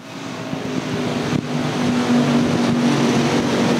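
Race cars roaring around the Thunder Hill speedway during a heat race, a steady loud engine drone that swells slightly as the pack passes, with no voices.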